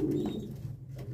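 Pigeons that have come down to drink water give soft, low cooing close by, a steady murmur with a few brief breaks.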